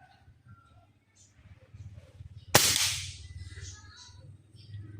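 A single sharp crack from a compact PCP air rifle fired at a small target, loud and close, with a brief decaying tail over faint background murmur and talk.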